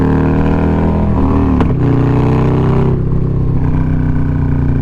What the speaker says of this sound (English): I just want to hit these highways and show y'all why I really love this bike